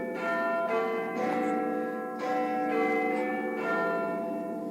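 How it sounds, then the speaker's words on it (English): Church bells ringing on a stage, several overlapping rich metallic peals swelling in waves, loud and sustained with no voices over them. "I can still only hear bells."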